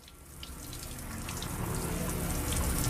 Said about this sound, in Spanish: Todo el que entra se da una ducha.